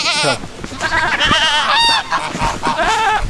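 Goats in a farm pen bleat loudly and repeatedly close by, several overlapping wavering cries amid shuffling and scraping sounds.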